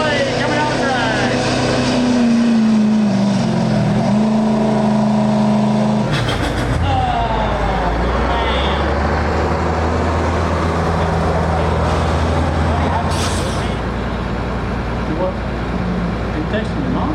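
A Chevrolet truck's engine roars and revs hard at an FFA truck pull, a loud sustained drone that shifts pitch around the midpoint, with an announcer talking over it.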